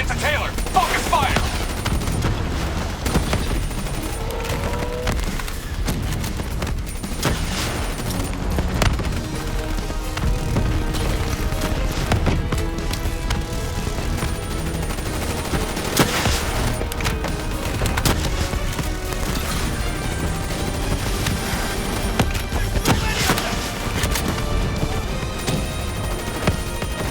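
Sustained gunfire rattles through a Call of Duty: Black Ops 3 battle against a Manticore mech, dense rapid bursts layered over explosions and music-like tones for the whole stretch, loud and continuous with barely a pause.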